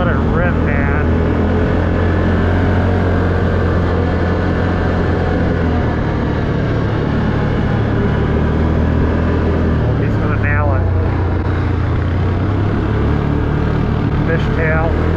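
A Can-Am Outlander 1000R ATV engine roaring on a forest trail in Pennsylvania, a loud, close, steady drone with shifting pitch as it revs, running for the whole stretch.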